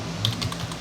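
A few quick keystrokes click on a computer keyboard hooked to a desktop PC under repair, short light taps in a brief burst with no voices.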